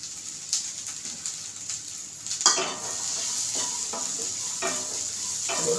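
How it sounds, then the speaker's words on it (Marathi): Green peas are dry-roasted and stirred in a pan, giving a continuous close sizzle broken by scraping stirs and a sharp clatter midway, with no talking. "हलकेसे आपले मटार पण भाजलेले आहेत।"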